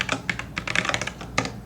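Fast typing on a computer keyboard while coding, a quick irregular run of close, crisp key clicks followed by a brief pause and a final few strokes.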